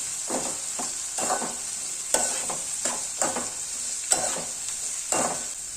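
Chopped capsicum stirring in a pan with turmeric and salt: a soft background sizzle with a series of brief scraping strokes of a spoon, roughly one or two per second, close and moderately loud.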